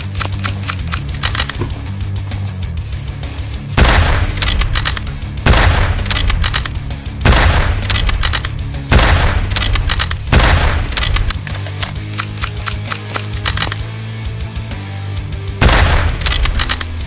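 Sniper rifle shots in the mountain survival game ST3 ring out as loud, sharp, widely spaced reports, about seven of them over a steady low background hum.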